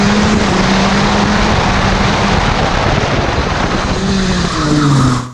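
A go-kart engine buzzes hard on a qualifying lap at a club track, a loud, continuous, raspy whine that holds steady, then rises near the end before cutting off.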